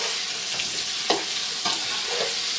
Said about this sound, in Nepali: यो सबै आलु चाहिँ राम्रोसँग यसो सुनौलो रङको नहुने हालसम्म फ्राई गर्नुपर्छ